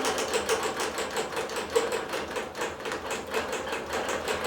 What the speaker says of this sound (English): press go. And it's going to start to quilt through.